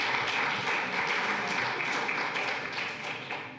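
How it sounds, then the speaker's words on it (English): Audience applause for a group of dancers at an AANHPI community celebration, a dense, steady wash of many hands clapping that fills the whole stretch and eases slightly toward the end. "Let's give those great dancers another round of applause"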